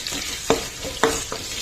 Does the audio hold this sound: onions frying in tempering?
yes